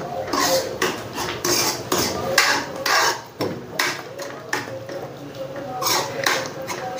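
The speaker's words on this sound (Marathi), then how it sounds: "कोथिंबीर टाकून थोडेसे मिक्स करून घ्यायचे." A spoon stirs chopped coriander into thick gram-flour pithla in a cooking pot, giving repeated clinking scrapes against the metal at an uneven rhythm, close and fairly loud.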